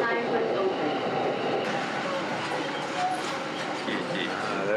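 Tokyo commuter train arriving at Ichigaya station, a steady loud rumble of the rail car in motion with rolling clatter under an onboard announcement voice throughout.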